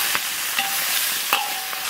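Beef ribs go into a wok of hot oil and caramelized rock-sugar color, producing a loud, steady hiss and sizzle with a few brief stirring clatters.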